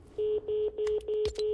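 A phone in the video game Fortnite rings with a steady pulsing electronic tone repeating about five times, loud and clear, broken near the end by a sharp click as the phone is picked up.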